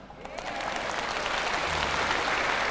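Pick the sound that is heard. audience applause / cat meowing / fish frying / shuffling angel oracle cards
audience applause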